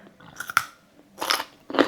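Close, crisp crunching bites of fermented garlic carrots in three separate bursts, with quieter chewing between them and no talking.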